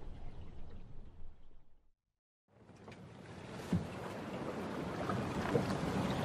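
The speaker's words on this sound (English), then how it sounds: "Agatha sat in the darkness and listened to the sound of the sea and the wind in the big sail" Sea and wind rush past a Viking ship's big sail in a low, breathy roar, broken by a brief silent gap before swelling back steadily, with no voices.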